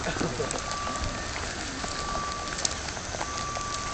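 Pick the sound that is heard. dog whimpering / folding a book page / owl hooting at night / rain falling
rain falling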